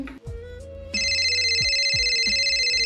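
A phone rings with a loud, bright electronic ringtone. It starts abruptly just under a second in and then keeps going in an even, pulsing pattern over soft background music.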